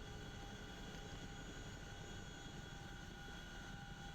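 A CH-47F Chinook tandem-rotor helicopter in the DCS World flight sim drones steadily at close range, a constant engine whine and rotor rumble holding even throughout with no voice present.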